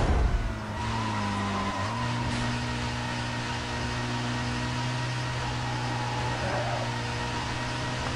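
A BMW driven in the racing video game Need for Speed Most Wanted holds a steady engine drone with a sustained low hum. A brief shift in pitch near the start is followed by continuous road noise, loud and unbroken.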